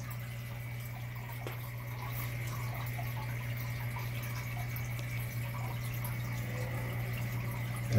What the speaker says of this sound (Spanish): ellos necesitan que el agua esté fluyendo